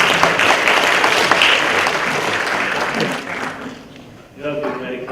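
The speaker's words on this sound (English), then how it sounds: "Please welcome him with a round of applause." Audience applause at a developer summit in Hong Kong, with a dense, steady round of clapping that holds for about three seconds before fading away, followed by a brief stir of voices.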